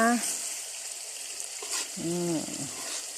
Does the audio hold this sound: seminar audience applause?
no